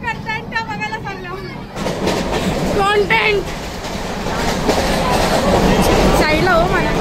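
Rumble and rattle inside a moving train bound for Puri, Odisha, a loud continuous rolling noise under people chanting and talking nearby.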